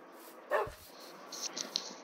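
A dog (or wolf) in Minecraft gives a single short bark near the start, followed by faint higher-pitched in-game chirps and ambient sounds.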